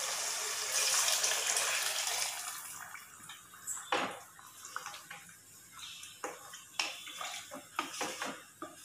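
Water is poured into a pot of vegetable biryani, two tumblers of water for each tumbler of rice: a loud, steady gush for about two seconds, then scattered metallic clinks and splashes.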